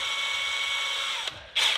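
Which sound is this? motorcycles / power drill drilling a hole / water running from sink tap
power drill drilling a hole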